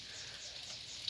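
Rain falls outside in a constant, faint hiss with no break, one brief drip standing out near the end.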